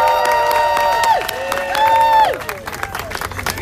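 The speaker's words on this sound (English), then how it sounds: "give them another round of applause" Crowd at a coalition launch event claps and cheers loudly, with whoops and shouts rising over steady applause that swells then thins toward the end.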